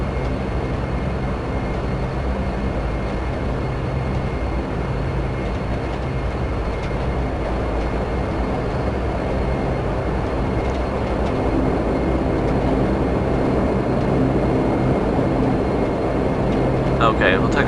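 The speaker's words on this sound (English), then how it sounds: "There's an aircraft taking off." In the FSX flight simulator, an aircraft takes off with a broad, steady engine roar and rumble that swells slightly toward the end, while a voice talks over it.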